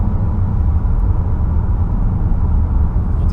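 A tuned Honda Accord 2.0T in sport mode with traction control off gives a steady, loud low engine rumble that holds evenly throughout with no voices.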